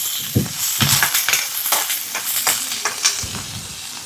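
Vegetables fry in a little oil in a pan, a steady close sizzle with scraping stir strokes and clatters across the whole stretch, no voices.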